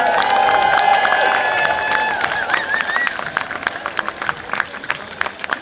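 Outdoor crowd at a No Kings rally in Eugene applauding and cheering for a warm-up band, loud dense clapping and whoops that gradually thin into sparser claps.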